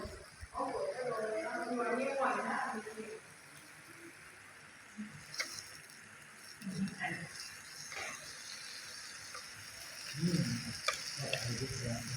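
Pork sizzles steadily on a hot tabletop grill, a constant crackling hiss, while people chat nearby and utensils clink now and then.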